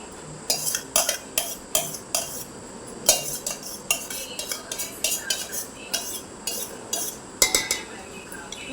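A spoon stirs set curd and milk cream together in a bowl while making ghee the old-fashioned way, giving a steady run of close, crisp metallic scrapes and clinks in an irregular rhythm with no talking.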